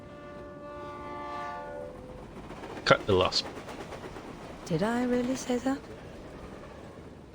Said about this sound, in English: why is the stupid train never on time?